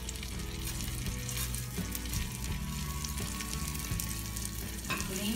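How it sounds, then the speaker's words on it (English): Whole garam masala, bay leaf and cashew nuts fry in oil over a low flame, giving a steady, dense sizzle and crackle throughout with occasional stirring scrapes, close and fairly loud. "So I'm going to add in all my whole garam masala."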